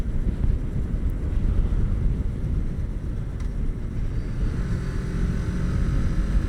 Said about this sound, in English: The wind is especially bad during this time of year.